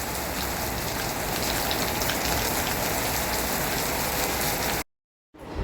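Rain falling on a rooftop, a dense, loud, even rush of drops that stops abruptly near the end, with no talking.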